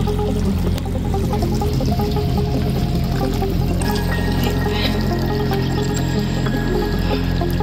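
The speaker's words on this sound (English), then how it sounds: "Come here, see, this is a river." Water flowing in a small stream running through a drainage pipe, a steady close rushing and trickling that continues without break, with no talk over it.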